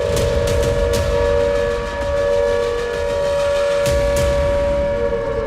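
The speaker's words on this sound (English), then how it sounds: "in city after Israeli city, sirens began to wail" Air raid sirens wail continuously across Israeli cities during an Iranian drone and missile attack, in a steady, loud drone, with a couple of sharp clicks or bangs over it and no talking.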